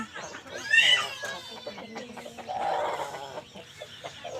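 Heavy short-nose long-tail hens offered for sale cluck and squawk in a couple of bright bursts nearby, mixed with some background chatter and movement.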